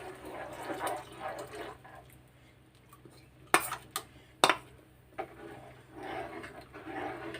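Ragi flour mixed in water stirred into pasta cooking in a pot, heard as faint swishing and scraping with a few sharp metal clinks of a spoon against the pot, close by and quiet.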